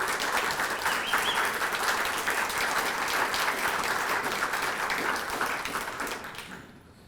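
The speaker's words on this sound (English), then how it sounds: "Can we give him another round of applause" Sustained audience applause fills the room at an Eagle Scout ceremony, a dense, steady wash of clapping that holds for several seconds and then tapers off toward the end.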